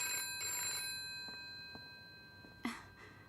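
A telephone rings in short bursts of bright, steady tones that start loud and fade, followed by a quiet pause and a sharp click near the end, with no talking.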